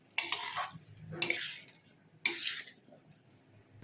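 Fried vegetables being stirred into peas in a pan, with three separate bursts of utensil scraping and clatter against the cookware and quiet pauses in between.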